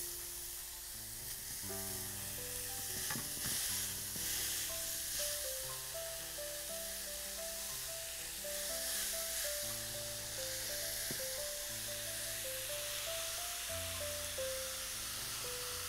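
Minced meat fries in a pan for béchamel pasta, giving a steady, soft sizzle and hiss throughout, heard under background music with no talk.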